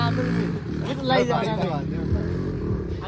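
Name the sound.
dirt bike engine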